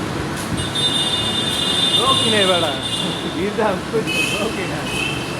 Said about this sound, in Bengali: স্বাধীনতার পরে আজকে আমরা মেট্রোতে যাচ্ছি